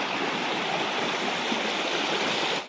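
A small forest creek swollen with heavy water rushes loudly and steadily nearby, a dense unbroken roar that cuts off abruptly at the end.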